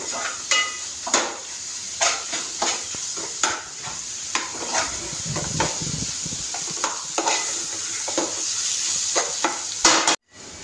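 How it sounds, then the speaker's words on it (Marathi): Butter chicken stirred into ginger garlic paste in a pan: repeated close spoon scrapes and knocks against the pan in an uneven rhythm over a steady frying sizzle, loud and near with no talk, ending in an abrupt cutoff. "परत अद्रक लसणाच्या मध्ये हे बटर चिकन टाकायचं"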